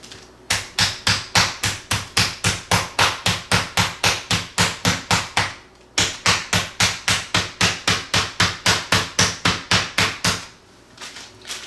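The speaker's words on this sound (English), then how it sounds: "I'm going to pound them to about 1/2 inch thick" Pork medallions in a plastic bag are pounded flat with fast, evenly spaced thuds close by, two long runs of about twenty blows each separated by a brief pause.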